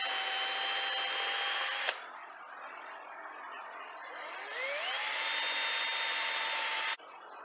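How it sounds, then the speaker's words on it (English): A power drill runs steadily, pre-drilling screw holes down through a board for an underseat 10-inch subwoofer box, its whine shifting in pitch as it bites, then stopping and starting again, loud and close with no talk. "we're going to pre-drill those holes all the way down"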